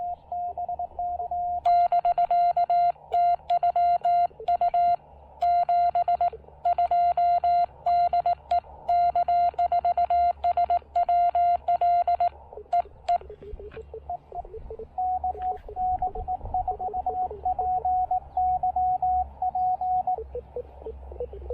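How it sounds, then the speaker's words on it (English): A distant amateur radio station on the 40 meter band comes through a portable park setup as a steady pitched tone keyed on and off in rapid bursts, with receiver hiss between and no talking. "I'm almost surprised I can hear him on 40 meters this morning."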